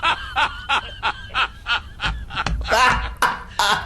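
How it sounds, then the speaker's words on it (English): Parrots give a rapid run of cackling, laugh-like squawks, about a dozen short bursts in quick rhythm that grow busier and louder toward the end, heard close and alone. "The parrots laugh."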